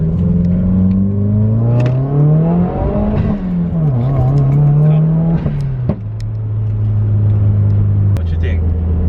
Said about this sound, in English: Let's get on one pull real quick